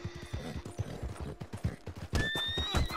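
Steady rhythmic clip-clop of hooves with a horse neighing partway through in a video game, close and clear with no voices.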